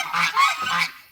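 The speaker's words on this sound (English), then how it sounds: "Let's go look at the geese while we're waiting." A goose honks several times in quick succession, loud and close, with nasal blaring calls.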